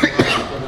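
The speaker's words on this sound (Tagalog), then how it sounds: "inuubo ako" A person gives two quick, close coughs in a row, short and fairly loud.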